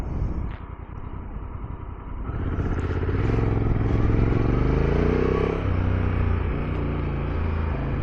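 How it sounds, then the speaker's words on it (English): Honda motorcycle engine braking, with a steady low mechanical drone and falling engine tones that rise in level after the first two seconds, close and loud with no talk. "Oh, the engine braking is strong."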